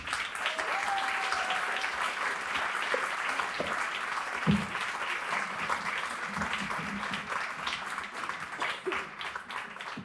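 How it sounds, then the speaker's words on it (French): Sustained audience applause welcoming a guest to an evening talk event, a dense even wash of many hands clapping continuously for about ten seconds with faint voices underneath. "on va plutôt parler de Lucie, que j'invite à nous rejoindre tout de suite sous vos applaudissements"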